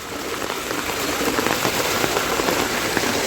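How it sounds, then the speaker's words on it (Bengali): Strong floodwater current rushing over a road during severe flooding in Sunamganj, a steady dense broadband wash close by with no talk, constant and loud throughout. "এই দেখেন জলের কি পরিমাণ স্রোত"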